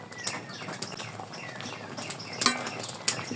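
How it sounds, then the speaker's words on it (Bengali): A spoon scrapes and clinks against a cooking pot while lentils and jute leaves are stirred together, with a few sharp metallic knocks among softer scraping, close by and without talk. "ভালো করে নেড়ে মিশিয়ে নিব"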